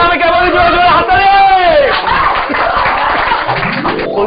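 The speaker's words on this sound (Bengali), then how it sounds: "জোরে জোরে হাততালি" An audience claps loudly after a dance performance while an amplified voice talks over the applause and crowd chatter. A short burst of music or singing rises near the end.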